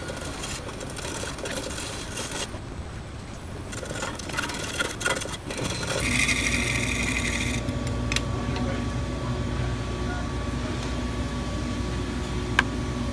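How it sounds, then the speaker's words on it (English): A chisel cutting the inside of a segmented wooden bowl spinning on a lathe, a continuous scraping, rasping hiss over the lathe's steady motor hum, changing character partway through as the cut shifts. "The inside is even tougher because I have to lean over to get a good cutting angle with my chisel."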